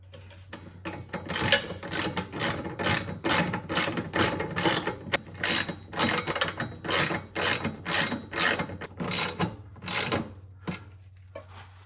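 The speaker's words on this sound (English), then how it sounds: "we're just gonna ratchet it through just to make sure it goes all the way in" A hand ratchet tightens a bolt while a Progress rear sway bar goes onto an Acura RSX Type S, with quick, close bursts of rhythmic clicking repeated steadily throughout.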